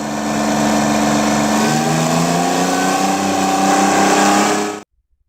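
A Detroit Diesel 6V71 two-stroke engine, 425.6 cubic inches, growls loudly and steadily with a rising pitch through most of the stretch, then cuts off abruptly near the end.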